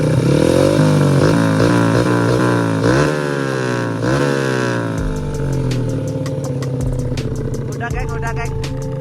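A motorcycle with an NS Pro racing exhaust revs in quick, loud bursts up close, then drops to a choppy, crackling idle with sharp pops near the end, while people talk over it.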